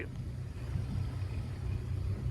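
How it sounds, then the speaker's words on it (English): A Monterey 180 FS boat idles out of a marina on a cold morning, its low, steady engine rumble close and continuous with faint water noise. "we're just idling out of the marina"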